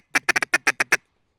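Eight quick raspy quacks from a double reed J frame duck call, sharp and close, in an uneven rhythm with a short pause midway, then silence.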